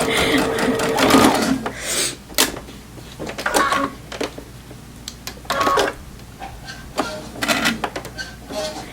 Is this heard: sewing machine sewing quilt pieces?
yes